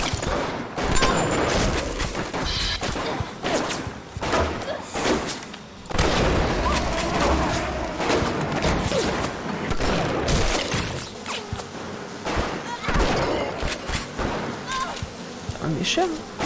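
Gunfire rattles in bursts during BioShock combat, mixed with a buzzing swarm of bees and occasional booms, loud and dense throughout as a player talks over it.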